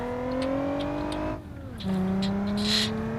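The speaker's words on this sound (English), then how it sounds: "Let's take the V6 Sport round, see what it can do." A V6 Sport car engine in BeamNG Drive revs high and steady, drops briefly during a shift, then climbs again, a close, continuous whine with faint tire noise.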